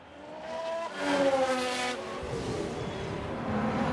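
Race car in F1 Manager 2022 spinning out, a loud engine whine with harmonic pitch sweeping and dropping, then giving way to a rough, noisy tire-scrubbing rumble that continues to the end.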